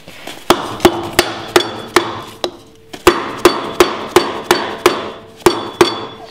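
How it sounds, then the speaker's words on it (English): A hammer pounds a metal trailer bearing protector in against a block, about fifteen sharp, evenly spaced blows close by in a brisk rhythm, with one brief pause partway through. "Just pound it in real good."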